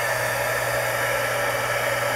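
A heat tool blows steadily to melt embossing powder, a constant loud airflow like a hair dryer running without pause, close by and with no talking.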